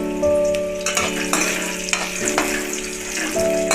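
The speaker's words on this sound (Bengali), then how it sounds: "প্রথমে আলুটাকে লাল করে ভেজে নেবো।" Potatoes fry in hot oil for a mixed paneer curry, giving a loud, continuous sizzle with a few sharper crackles and stirring scrapes close by.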